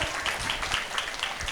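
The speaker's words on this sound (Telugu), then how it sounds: "ఒక్కసారి ఇద్దరికి గట్టిగా చప్పట్లు కొడదాం." A crowd at a 108 Pyramid anniversary event claps for two performers after a classical group piece, a brief, steady burst of many hands at moderate distance.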